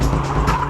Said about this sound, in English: Here is a demo run by Tsuchiya in a nicely tuned S14 Sylvia.